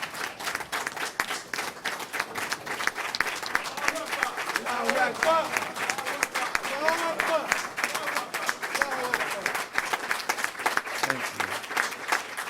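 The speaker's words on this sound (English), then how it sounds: "Let us give Sister Shirley a wonderful round of applause." Steady, dense audience applause in a lecture hall for Sister Shirley, wife of Minister Don, at an address, rolling on for the whole stretch while someone speaks briefly over it.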